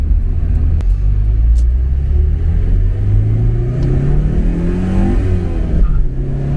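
A stock 1982 Porsche 944 accelerates hard, its engine note climbing steadily through the gear with a brief tire chirp at the shift into second, loud and close without any speech.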